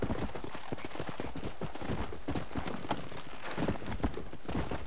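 Galloping horse in the Red Dead Redemption video game, a steady rapid clip-clop of hooves running continuously and fairly close throughout.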